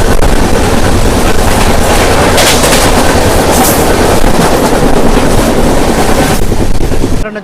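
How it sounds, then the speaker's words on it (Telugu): Kerala SF Express, train 12625, departing Coimbatore Junction: a loud, continuous roar and wind rush with steady rumble throughout, cutting off abruptly at the end. "మన ట్రైన్ వచ్చేసి కోయంబత్తూర్ జంక్షన్ నుంచి అయితే బయలుదేరిపోయింది"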